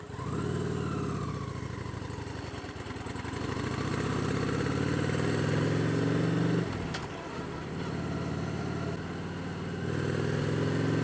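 A motorcycle engine drones steadily while riding, close and loud, its pitch rising and falling with throttle changes and a brief dip as speed drops before building again.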